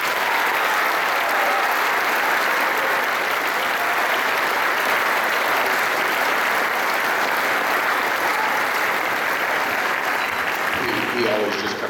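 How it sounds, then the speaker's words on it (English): A crowd at a middle school eighth grade band concert applauds in a loud, steady wash of clapping that runs unbroken for about twelve seconds, with a faint trace of voices near the end. "I would just like to give him a round of applause"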